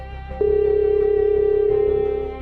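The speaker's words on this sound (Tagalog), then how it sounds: "tumunog ang cellphone niya" A cellphone ringing in a Tagalog sci-fi drama: a single loud, sustained electronic tone that holds steadily for about two seconds over a low background hum.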